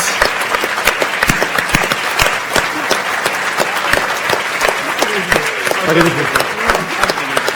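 A science festival crowd gives sustained, loud applause for the FameLab finalists gathered on stage, dense clapping running throughout with a voice briefly audible beneath it near the end.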